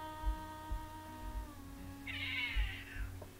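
A house cat gives a brief, fairly faint meow indoors while a steady electrical hum drones underneath, with occasional soft thumps.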